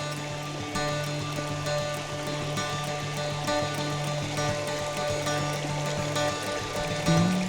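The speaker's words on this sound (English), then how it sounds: "I think I've just found the first composition of this lovely little stream with a waterfall in it" A small woodland stream with a waterfall in Scotland makes a steady, dense rushing and splashing of water, continuous and fairly close, with no voices.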